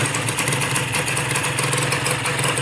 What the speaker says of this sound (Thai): ก็เสียงเครื่องเงียบๆครับ บาลานเซอร์ชาร์จอะไรไม่ไม่มีดังตรงนี้